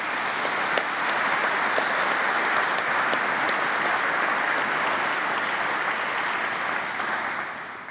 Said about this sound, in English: Why don't you give them a round of applause,